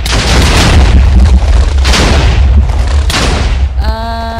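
A video game explosion booms loud and close, rumbling on as a dense roar with repeated blasts, then ends in a sudden electronic tone.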